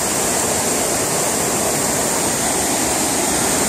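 A small waterfall at Shepherd's Dell in the Columbia River Gorge pours in a steady, close, dense rush of white water that never lets up.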